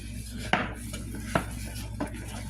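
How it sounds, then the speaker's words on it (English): A flat wooden spatula stirs thick corn in a pot, giving three soft scraping knocks against the pot over a steady low hum, quiet and close. "Just keep stirring it so it doesn't stick."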